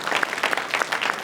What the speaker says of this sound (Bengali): চমৎকার, জোরে হাততালি।